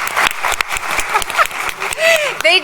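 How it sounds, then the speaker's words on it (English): Audience applause for panelists at a post-election political science event, scattered claps rising and falling over a steady hum of voices, with some talk mixed in. "they deserve applause now, right?"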